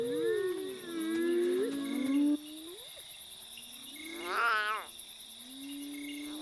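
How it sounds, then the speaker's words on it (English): An abandoned lion cub cries at night in thin, wavering tonal calls, with one louder rising wail near the end, set against a steady pulsing chorus of night insects. "The plaintive cries of the abandoned lion cub echo through the night."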